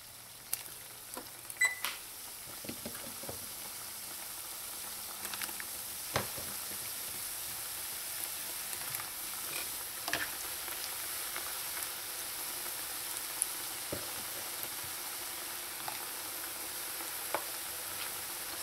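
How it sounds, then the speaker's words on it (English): Kurma pieces frying in hot oil, a steady soft crackling sizzle with scattered sharper pops, close and fairly quiet with no voices. "When your oil is nice and hot, you're going to put in your kurma to fry."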